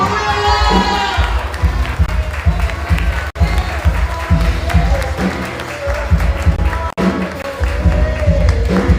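A church congregation at a Sunday service applauds and cheers, with loud, dense clapping and shouts filling the space throughout, while voices call out over the crowd.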